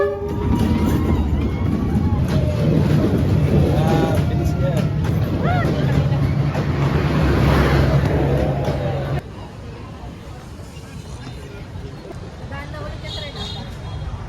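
A train passes through Hanoi's Old Quarter with a loud, sustained rumble mixed with street hubbub and nearby chatter. The roar cuts off abruptly partway through, leaving quieter ambient street noise.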